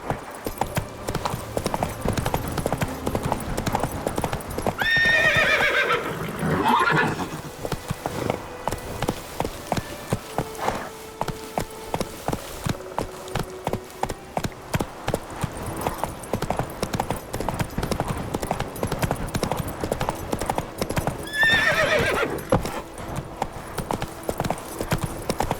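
A horse gallops in The Witcher 3 with a steady, rapid clip-clop of hooves throughout, and two brief whinnies rise above the hoofbeats partway through.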